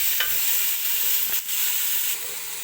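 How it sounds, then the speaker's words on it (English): Two sliced onions are stirred into hot oil in a pan, giving a loud continuous sizzle with a few sharp scrapes of the utensil close by. "This is 2 onions, just sliced up, and I'll stir that in."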